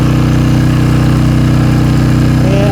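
A Storm Responder portable generator engine runs steady and loud at close range, a constant mid-pitched drone with a faint rising whine near the end, no talk.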